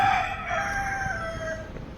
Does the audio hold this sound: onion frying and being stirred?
no